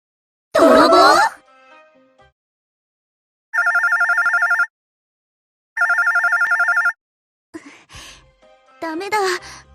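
A telephone rings out in two separate electronic bursts during an unanswered call to a producer, with breathy sighing and short vocal sounds around the rings.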